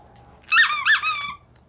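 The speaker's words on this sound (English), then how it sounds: "Have you ever heard a squeaker before?" A squeaker in a plush dog toy squeaks loudly up close, a quick run of a few high wheezy squeaks over about a second, alone against quiet room background.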